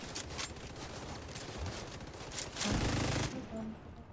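Continuous automatic shooting in a video game, a dense rattle of rapid shots under a busy mix of battle sounds, swelling louder near the end.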